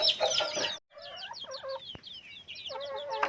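Chickens cluck close by in a farm coop, a dense burst of overlapping hen calls, a short pause, then more clucking and squawks continuing through to the end.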